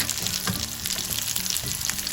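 Mussels coated for masala rawa fry sizzle in a hot pan. A dense, close, steady crackle of frying oil continues throughout with small pops and no voices.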